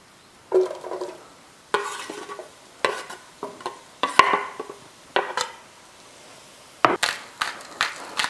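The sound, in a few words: onions added to melted butter in a pan over medium heat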